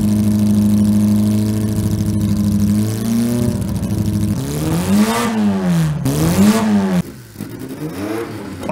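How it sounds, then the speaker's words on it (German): Porsche 718 RS race car engine and exhaust revving loudly and close, a steady high idle rising into repeated sweeping revs with sharp throttle blips, no voices. "Hören Sie den Sound des Porsche 718 RS"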